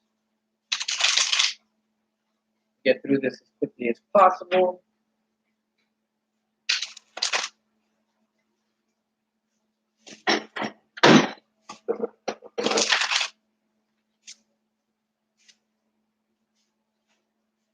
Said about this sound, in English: I'm going to go ahead and shuffle the Rider Waite, draw these cards